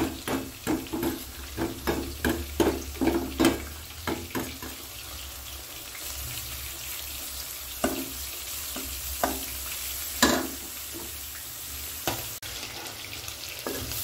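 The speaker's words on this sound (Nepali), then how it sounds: "अलिकति सुक्खा मसला चाहिँ म अब भुट्छु साथीहरु है।" Dry spice masala fries in hot oil for spicy crunchy chicken, a steady close sizzle broken by repeated scraping strokes of a spoon stirring the pan, with no talking.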